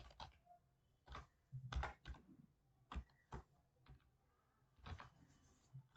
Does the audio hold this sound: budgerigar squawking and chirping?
no